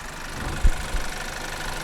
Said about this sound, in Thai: เครื่องยนต์เดินเรียบมากๆนะครับ เสียงนุ่มมากๆนะครับ